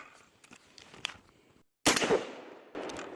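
A Genesis Gen-12 shotgun with a 10.5-inch barrel fires a single loud slug from a drum magazine; a sharp blast follows quieter handling noise and a pause, with a decaying echo tail.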